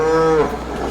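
A cow in a dairy farming video game gives a single close, loud moo that fades after about half a second, with no talking.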